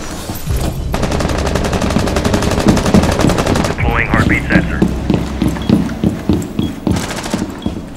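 Rapid automatic gunfire rattles loudly and continuously in the video game Overwatch, breaking into shorter bursts and scattered shots near the end while a player talks over the fight.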